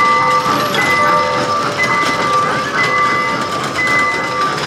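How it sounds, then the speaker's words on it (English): A train runs through an outdoor shopping mall center with a huge Christmas tree, a steady rumbling bed of wheels with bright whistle-like tones, continuous and fairly loud amid ambient crowd noise. "look at the train right there too"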